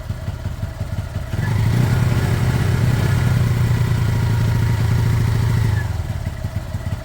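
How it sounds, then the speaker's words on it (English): A Lexmoto Michigan 125cc motorcycle engine runs close by, a loud steady thumping putter that rises and holds for several seconds before settling back to a lower idle, with no talk. "that's a great sounding engine"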